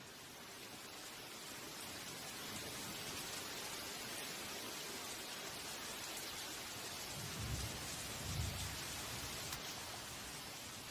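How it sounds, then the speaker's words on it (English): Heavy tropical rain pours down in a Thai forest, a steady dense hiss of falling water with a couple of low rumbling thumps near the end, heard alone and fairly faint. "The rain starts pouring down, like a harsh welcome to the real world."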